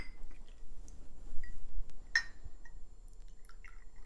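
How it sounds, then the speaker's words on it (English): Cold brew coffee concentrate trickles from a small cup into another cup, with faint, soft dripping and one brief splash against a quiet room. "I try not to spill"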